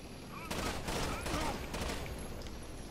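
Rapid bursts of gunfire from a tactical shooter video game, Rainbow Six Vegas 2, crackle loudly and almost without a break, with a voice briefly talking over the shots.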